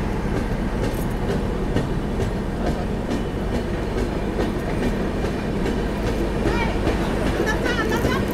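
The Visakha Express, Bhubaneswar to Secunderabad, pulls out of platform 2 at Baliguda station, its wheels clattering steadily over rail joints in a loud continuous rumble with faint squeals and occasional voices nearby.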